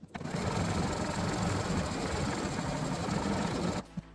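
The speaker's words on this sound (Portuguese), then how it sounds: "com a máquina fazendo a marcação da cabecinha" Embroidery machine stitching the outline of a small head on a hooped cloth, a steady rapid mechanical whirring and ticking held close for several seconds before stopping abruptly.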